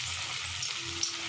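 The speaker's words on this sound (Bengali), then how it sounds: "এমনি করে এবার তেলে ফ্রাই করে একটা একটা করে তেলে দিয়ে দেব।" Flattened jackfruit and shrimp pakoras fry in hot oil with a steady, dense, close sizzle that holds evenly throughout, no voices.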